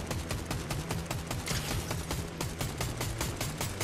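Rapid gunfire from a Fortnite match, with dense, continuous bursts of shots crackling steadily and loudly throughout, layered over game effects and background music.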